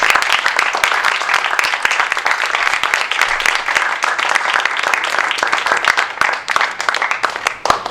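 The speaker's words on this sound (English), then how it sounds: "Can we please give them a big round of applause?" An audience at a question-and-answer event with Governor and Mrs. Florio gives a steady round of applause, dense clapping sustained for several seconds.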